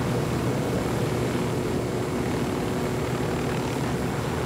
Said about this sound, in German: Irgendwie ist der Helikopter langsam.